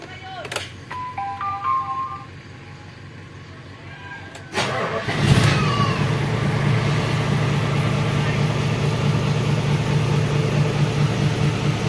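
An air compressor engine cranks and starts after a few clicks and short beeps, then settles into a steady loud running drone, with someone talking briefly at the start.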